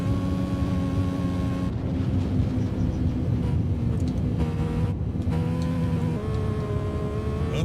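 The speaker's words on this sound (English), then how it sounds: "Downshift, don't blow it through here." A racing motorcycle in TT Isle of Man: Ride on the Edge 3 drops through the gears, its loud steady engine whine stepping down and back up in pitch with each downshift, continuous and close.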